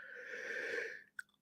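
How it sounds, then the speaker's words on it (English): A person yawns in one long, breathy, drawn-out voiced exhale lasting about a second, then a short click-like sound and a soft breath follow. "you can tell I'm yawning."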